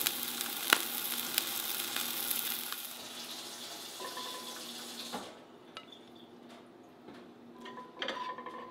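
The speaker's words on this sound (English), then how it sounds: "he's gonna do a little pan sear" Halibut sears in a hot pan with a loud, steady sizzle for a few seconds. The sizzle then fades to a quieter crackle with a few faint clinks.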